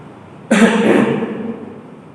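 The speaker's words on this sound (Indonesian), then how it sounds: "saya harus sabar pagi batuk" A single harsh cough with a throat-clearing rasp breaks out loudly and close, then trails off over about a second and a half in a quiet room during an early-morning religious lecture.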